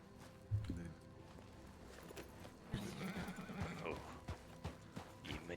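A horse on a road gives a loud whinny early on, followed by a run of clip-clopping hooves and further snorting and movement, with people talking faintly in the background.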